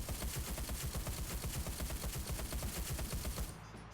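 A Hotchkiss machine gun firing in the game Enlisted, a rapid steady stream of loud close shots in one continuous burst that stops just before the end.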